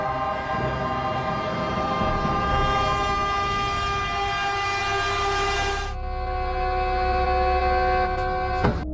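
A train horn blares in one long sustained chord over the heavy rumble of a train rolling along the tracks, loud and close.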